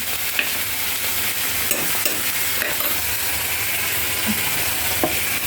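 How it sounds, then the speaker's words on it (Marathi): Ground masala paste roasting in a hot pan, stirred constantly: a steady close sizzle and frying hiss with scraping spatula strokes and a few light knocks, no talk. "वाटण चांगलं भाजून घेणार आहोत। वाटण टाकलं"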